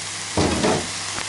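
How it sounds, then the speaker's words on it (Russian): Mackerel pieces stirred and fried together with an onion filling in a pan, a burst of scraping and sizzling in the middle with quieter frying either side, no voices. "Все перемешиваю и жарю все вместе."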